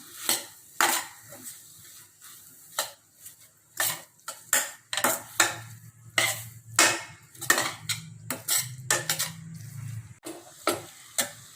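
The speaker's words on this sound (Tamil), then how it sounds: "இப்போ நல்லா வதக்கிடலாம். ரொம்ப நல்லா வதக்கணும்." Tomatoes and other paneer butter masala ingredients being sautéed in a pan, repeated sharp metal spoon scrapes and clanks against the pan in an irregular rhythm, close and loud, with a faint sizzle underneath.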